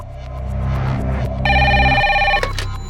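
A telephone rings in repeated bursts, loud and close, with a steady electronic tone over a low hum and no voices during the ring, as a call goes out to a hospital.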